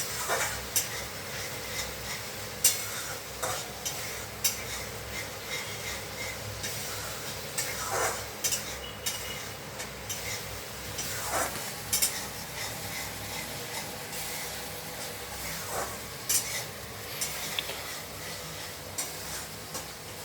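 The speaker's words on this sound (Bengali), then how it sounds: "মশলায় তেল ছেড়ে দিয়েছি, মশলা ভাজাও হয়ে গেছে" Spices fry in oil in a home kitchen with a soft, continuous sizzle, broken by scattered stirring scrapes and light clinks of a utensil against the pan over about twenty seconds.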